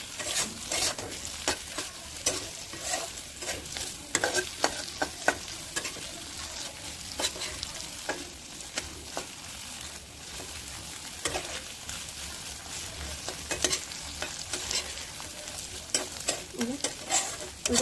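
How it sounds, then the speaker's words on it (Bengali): Food being sautéed and stirred in a pan, a constant close sizzle broken by frequent sharp spatula scrapes and clicks in a steady rhythm throughout. "ভালো করে একটু কষাই নেবো"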